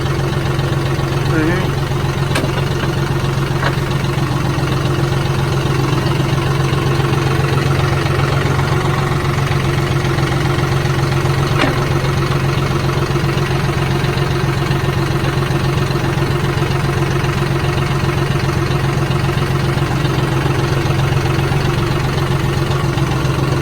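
A tractor engine idles steadily and close by, a constant low rumble with no changes in pitch throughout.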